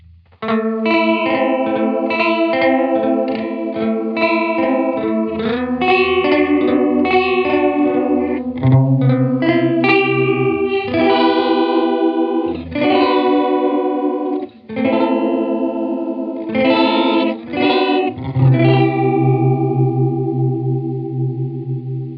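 Electronic Audio Experiments Mirror House V2 pedal in Flutter mode, a loud, continuous processed guitar passage with wavering, warbling chorus-like modulation across sustained chords and picked notes, with no talking.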